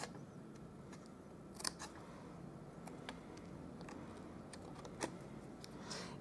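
Scissors snipping along the score lines of a paper gift box, faint sparse clicks and cuts at irregular intervals over a quiet background.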